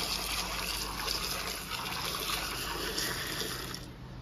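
Water gushing steadily into a drum for washing mangoes, a continuous loud splashing pour that fades slightly near the end, with no voices.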